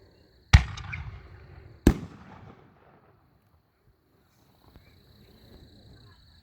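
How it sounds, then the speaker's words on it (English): Two sharp, loud bursts from 62 mm firework shells, blue peony with white stroke, come about a second apart, each with a short rumbling echo, then quiet with faint distant noise. "Going into preloaded 62 millimeter shells, this is blue peony with white stroke pistol."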